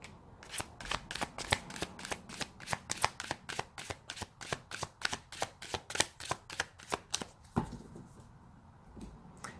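Tarot cards are shuffled by hand in a quick, regular series of crisp riffling flicks, close and fairly quiet, ending in a final louder snap and a brief pause.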